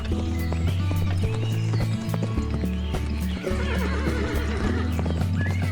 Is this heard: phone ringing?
no